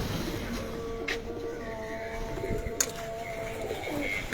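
Pigeons coo softly in a rooftop loft setup, a low murmuring that runs under constant background hum, with a couple of sharp brief clicks.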